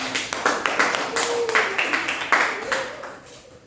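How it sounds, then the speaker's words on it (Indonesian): A class claps hands in a small room, a loose burst of individual claps with sharp separate strikes, fairly close and fading out over a few seconds. "Tepuk tangan."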